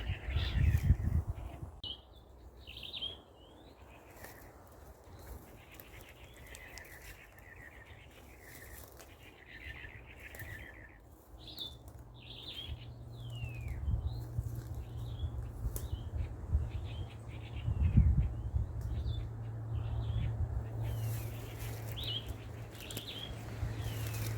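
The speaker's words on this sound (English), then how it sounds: "sit down for a while here within the forest and listen to all the birds" Birds sing in a small forest in Franskraal, bright chirps and warbles repeating from moments near and far, while a low steady hum and occasional bumps sit underneath.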